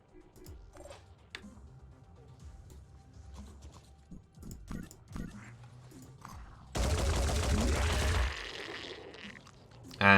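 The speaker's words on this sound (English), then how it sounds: "we'll just hit you with a big gun" A big gun fires in a video game: quiet scattered clicks and taps give way to a loud, dense burst of rapid fire lasting about a second and a half, followed by another sharp blast at the very end.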